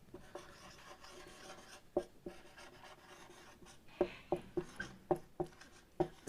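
Geometry notes are written on paper, soft scratching pen strokes in short irregular bursts that grow busier toward the end, close and quiet with no talk.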